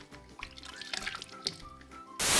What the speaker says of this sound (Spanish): déjenme vuelvo a enjuagar la cara